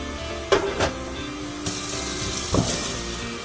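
Water from a kitchen tap running over a plate being rinsed, a steady close splash and hiss with a few knocks and clatters of the dish.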